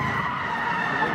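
Continuous tire squeal of a Subaru skidding into a spin after a lift off the throttle, steady and loud from start to finish, with engine rumble underneath and no talking.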